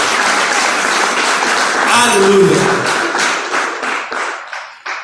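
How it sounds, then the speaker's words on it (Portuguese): A church congregation claps loudly and continuously in praise, a dense close patter with a voice calling out over it before the clapping tapers and grows uneven at the end. "Aplauda o nome do Senhor Jesus."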